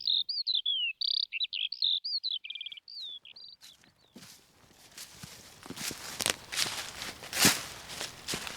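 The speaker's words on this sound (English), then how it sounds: "Birds going into roost." Birds chirp and call going into roost at dusk on a farm, a clear run of close, separate tweets at first that gives way to a denser, noisier wash of chatter and rustling activity.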